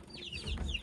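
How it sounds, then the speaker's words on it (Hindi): Aseel chicks cheep and cluck in a short, close burst of high chirps. "इधर हमारे आ गए जी चूज़े"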